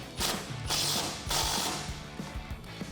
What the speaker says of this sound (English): we can tighten up this bolt on our support bracket using a 6mm Allen socket or Allen key